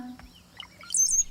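A few short, high chirping myna bird calls, fairly faint, in a quiet setting with no talking.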